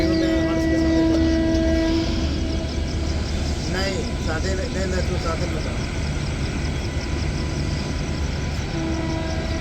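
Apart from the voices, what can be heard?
MEMU train entering Howrah station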